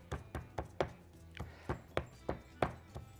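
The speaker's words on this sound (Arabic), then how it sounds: "وندق الكلام ده" Spices with cumin being pounded with a pestle in a mortar for seasoning baked mullet: about ten sharp, evenly spaced thuds close up, steady and moderately loud, with no talking.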